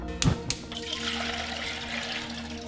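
Water at a rolling boil in a pot on a cooktop, heating for a borax crystal solution: a steady, close, broadband bubbling hiss that follows a couple of brief knocks at the start.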